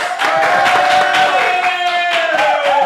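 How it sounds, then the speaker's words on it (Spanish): Crowd noise with scattered clapping and cheering, loud and continuous throughout, with a sustained tone running underneath. "Quiero que recibamos con un fuerte aplauso"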